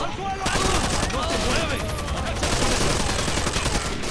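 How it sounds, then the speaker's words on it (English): Dense, sustained AK rifle fire in the video game Rainbow Six Vegas, with rapid overlapping shots forming a loud, continuous fusillade that runs almost the full length after a brief quiet start. "Oh, come on, I'm blind firing with an AK."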